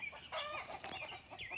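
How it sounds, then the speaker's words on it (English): Backyard roosters crowing and clucking together in a garden among fruit trees, several overlapping calls close by with a rising crow near the end. "these roosters are making a party"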